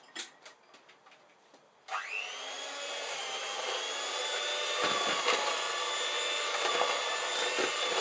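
An electric mixer beats cake batter for Ghostbusters-themed Slimer and Muncher mini cakes, starting abruptly after a few light clicks and then running as a steady, loud motor whir that holds to the end.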